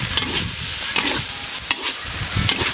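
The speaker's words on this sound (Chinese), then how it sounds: "来炒一下。" Pork belly with onion and chili is stir-fried in a hot wok, a steady loud sizzle with scraping spatula strokes and tossing, no talking.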